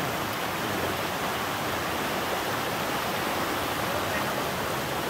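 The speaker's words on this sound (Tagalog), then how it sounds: "Yung sounds ng agos ng tubig, oh." River water flowing steadily in a rural countryside stream, a dense, constant rushing wash with no pauses, close and loud throughout.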